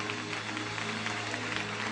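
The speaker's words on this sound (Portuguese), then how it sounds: "aplaudir o Senhor" A church congregation claps in a dense, continuous burst of applause that holds steady throughout.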